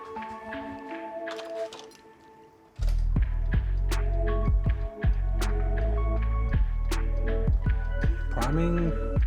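A Walbro 255 in-tank fuel pump primes in a VL RB30 Turbo, a low steady hum switching on abruptly and droning on beneath scattered clicks and taps, with people speaking at points.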